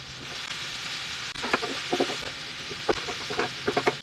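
Broccoli sautéing in a hot pan with ginger, garlic and onion for beef with broccoli, a steady broadband sizzle with sharper crackles and stirring clatters over the last few seconds.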